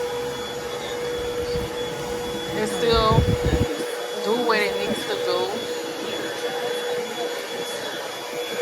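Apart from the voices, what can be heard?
old vacuum cleaner running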